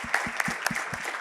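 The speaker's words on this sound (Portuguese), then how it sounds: "Merece palmas, né?" Applause from an audience at a retail business talk, a steady patter of claps with periodic louder sharp hits, fairly close and unaccompanied by voices.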